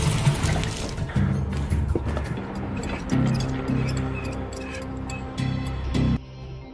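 Water gushes from an opened pipe tap into a container that is being filled, a steady rushing pour with tonal sounds running beneath it.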